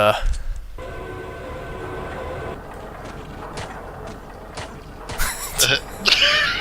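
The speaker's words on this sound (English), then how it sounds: "by all appearances, this train just stops down there" A train rolls along rails in a video game, a low steady rumble beneath ongoing talk, with a few louder clanks and bursts near the end.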